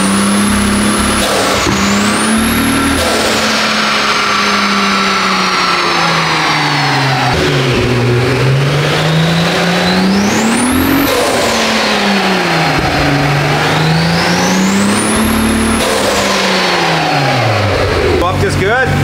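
Turbocharged VW Golf 2 engine revving up and down repeatedly with a faulty ignition coil, one cylinder dropping out; loud and close, with rising and falling turbo whine and an uneven, stumbling note.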